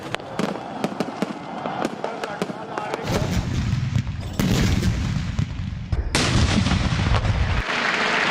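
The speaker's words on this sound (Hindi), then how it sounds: "दिन का आगाज तोपों की सलामी से हुआ।" Cannons fire a salute for Pakistan's 75th Independence Day in a rapid series of loud booming blasts, echoing outdoors, with a voice briefly heard under the barrage.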